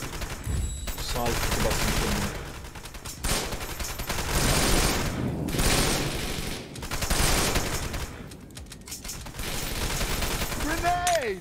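Heavy gunfire from a firefight in the video game Wanted: Dead, set in Hong Kong, comes as loud, dense bursts of rapid shots in waves with brief lulls, and a voice speaks over it.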